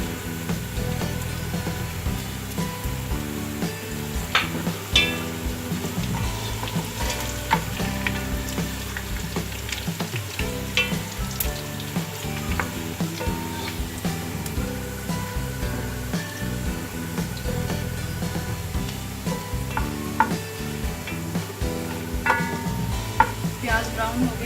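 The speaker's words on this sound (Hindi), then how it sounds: "प्याज अभी फ्राई हो रही हैं। अब मैं इसमें गरम मसाला डाल के उसे भी फ्राई करूंगी।" Onions frying with garam masala in a home cooking pan, a steady dense sizzle with crackling pops and occasional stirring scrapes throughout, close and continuous with no talking.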